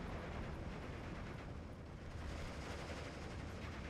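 Dense, continuous roar of battle gunfire from an IG-33 infantry gun shooting at a StuG IV assault gun in Steel Division 2, a steady wall of loud blasts and rumble with no clear pauses.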